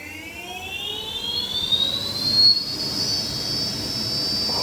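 A 6000 watt electric motorbike motor spinning in first gear on its kickstand, a high whine rising steadily in pitch over a constant hiss, near and loud, with no talking.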